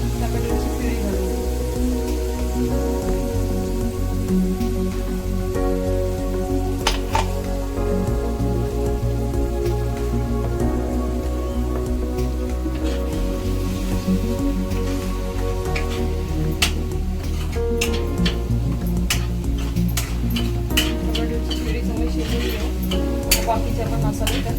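Tomato puree and gravy for chole sizzle and crackle steadily in a hot pan while being stirred, a dense, loud frying hiss with occasional sharp pops and scraping throughout.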